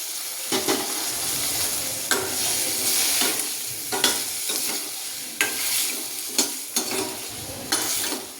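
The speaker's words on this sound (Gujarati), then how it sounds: "હવે આપણે તેમાં ફ્લાવર એડ કરી દઈશું।" Cauliflower for a Gujarati sabzi sizzles in a hot pan as a spatula stirs it, with repeated scraping strokes over a continuous close frying hiss and no talking.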